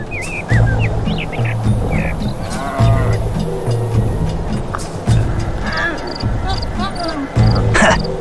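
Cow creature in the god game Black & White 2 mooing repeatedly in loud, low bellows spaced a second or two apart, with game chatter, frog-like croaks and other interface sounds in between.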